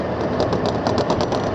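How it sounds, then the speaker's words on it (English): A golf cart engine running on a bumpy island road, a steady close drone with a rapid rattling pulse, continuous and fairly loud. "I think this is Fina's first time driving a golf cart."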